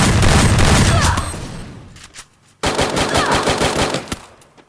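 Rapid automatic gunfire in the mobile shooter game Free Fire, loud, dense bursts that fade, break off briefly, then start again with hard, close shots.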